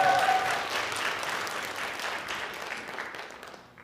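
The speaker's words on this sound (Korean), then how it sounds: "큰 박수 부탁드리겠습니다." Sustained audience applause at a parents' education conference, a dense crowd of clapping hands that starts strong and gradually tapers off.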